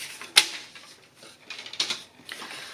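Scored paper strips being snipped off while making a small wrapping box, a few sharp crisp cuts spaced apart, close and moderately quiet with no talk.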